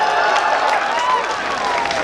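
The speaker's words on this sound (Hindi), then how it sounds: "इसलिए जोरदार तालियां बजाएंगे" A comedy show crowd bursts into loud, sustained applause, dense clapping mixed with cheering and a faint voice over the top.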